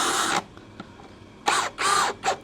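DongCheng DCPL165 cordless impact driver driving a screw: a short whirring burst, then after a pause three quick bursts of buzzing motor whine, close and loud.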